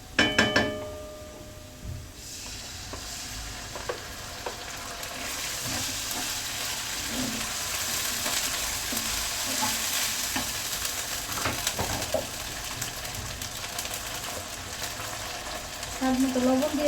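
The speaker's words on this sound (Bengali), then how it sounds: "এখন আমি একটু আদা রসুন দিয়ে দিব" Ginger and garlic added to frying onions in hot oil, a loud burst of sizzling that settles into a steady crackle with stirring scrapes, while a voice talks briefly at the start.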